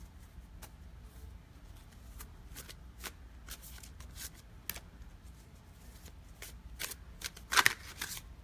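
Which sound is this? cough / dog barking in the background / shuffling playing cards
shuffling playing cards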